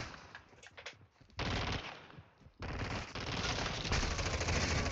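Bursts of loud automatic gunfire in Call of Duty Modern Warfare 2, with a sparse rattle that breaks into dense sustained fire, pauses, then resumes hard and continuous.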